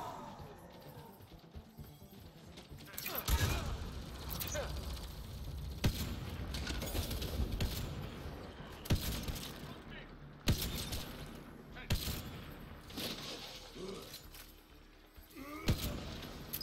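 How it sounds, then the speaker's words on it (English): Heavy weapons fire in the Mass Effect Andromeda video game comes as a string of sharp, shattering impacts at irregular intervals, fairly quiet overall and mixed with game voices talking. "Pathfinder, I detect heavy weapons fire nearby."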